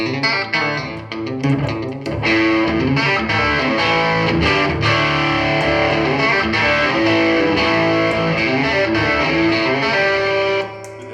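Electric guitar played through a Fender Supersonic 22 amp on its Vibrolux setting with flat EQ, a continuous passage of strummed chords and picked notes with a slightly driven, effected tone, loud and close with no talk.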